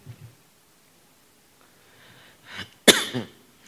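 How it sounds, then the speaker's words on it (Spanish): A single sharp cough bursts out near the end after quiet breathing and faint rustling, close and abrupt. "Me está dando la tos."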